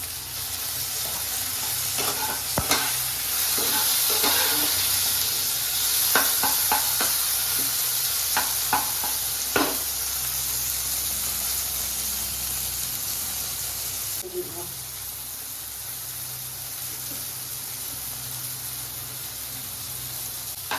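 Tomatoes sizzle in a frying pan with onions, a steady close hiss broken by repeated scraping stirs and a few sharp clicks of the spatula against the pan.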